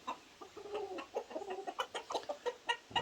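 Chickens, including a brown and white hen, cluck in quick, irregular bursts of short calls, fairly close and moderately loud, with no talking.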